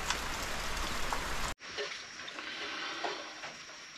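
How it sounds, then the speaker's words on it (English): Steady rain falls onto a home's rainwater catchment setup, a dense hiss of drops with scattered louder splatters, continuous and fairly close; the sound cuts out briefly partway through and resumes with a slightly thinner texture. "Catching a lot of good rainwater today, filling up the catchment tank."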